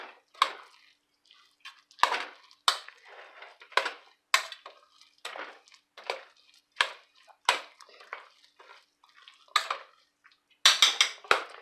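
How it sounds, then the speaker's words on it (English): A spoon or whisk mixes a honey glaze for pork chops in a bowl, making a rhythmic series of wet scraping and clinking strokes, close and clear, with brief pauses between strokes. "I'm going to mix this up a little bit."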